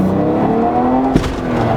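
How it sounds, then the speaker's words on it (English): A Cosworth-swapped Mercedes C36 AMG engine roars loudly and close, its pitch rising as it revs, with a brief clunk partway through. "Dude, this car sounds so good."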